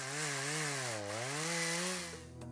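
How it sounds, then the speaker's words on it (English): A chainsaw cuts down trees while crews clear debris at a cable car crash site in Italy, its engine whining steadily with pitch rising and falling as it bites into the wood. "removing debris and sawing down trees"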